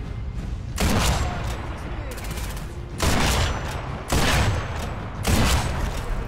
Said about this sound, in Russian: В гранату ему, походу, попало, она взорвалась.